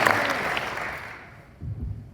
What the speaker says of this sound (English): give a warm round of applause for Mr. Sander Clothes